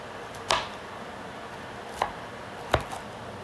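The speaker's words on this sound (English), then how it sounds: "we're not going to get too intense here about chopping this up" Food for a shrimp stir-fry is chopped into chunks with a knife on a board, three distinct sharp chops spaced unevenly over a steady background hiss.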